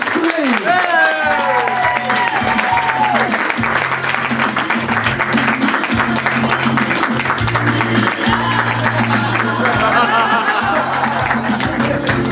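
An audience at a comedy roast applauds steadily throughout, a dense wash of clapping with crowd noise, while a voice sings or talks over the start.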